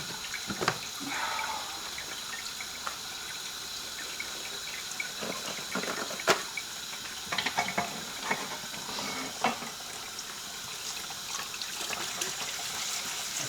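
Tap water runs and splashes steadily over cast iron cookware being washed after a lye bath, with intermittent clatters and scrubbing bursts; no talking.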